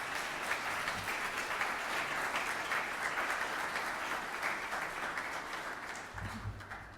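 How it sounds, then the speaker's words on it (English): An audience at an end-of-year celebration claps steadily for a speaker taking the stage, a dense, sustained wash of applause that holds throughout, with a low voice briefly coming in near the end. "Please give her a round of applause."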